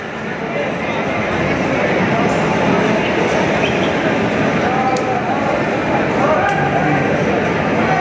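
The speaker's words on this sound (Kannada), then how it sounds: "ಟ್ರೈನ್ ಮೂವ್ ಆಗ್ತಾ ಇದೆ. ಅಮೃತ್ ಭಾರತ್ ಎಕ್ಸ್ಪ್ರೆಸ್ ಫೈನಲ್ ಆಗಿ 4:35 ಎಕ್ಸಾಕ್ಟಾಗಿ ಓಡ್ತಾ ಇದೆ." Amrit Bharat Express pulling out of a station, a steady loud broadband rumble and rattle of the moving train filling the whole stretch, with crowd noise and faint talk mixed in.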